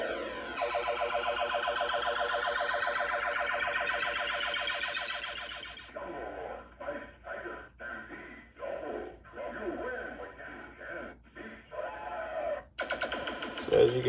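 Sound effects from a Williams System 7 Jungle Lord pinball sound board under test. A long, loud sweeping siren-like electronic wail is followed by choppy synthetic bursts and a final short electronic sting.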